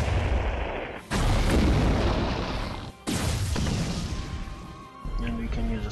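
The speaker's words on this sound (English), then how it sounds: "Casting some torpedoes." Heavy booming blasts in the naval game Abyss Horizon as torpedoes strike, loud crashing explosions in three long bursts with brief gaps between, and a voice talking over the game sounds.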